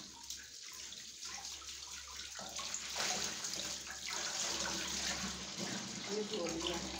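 Water runs steadily from a tap while washing is done at home, a continuous splashing flow that is moderately close. A voice speaks faintly in the background at times.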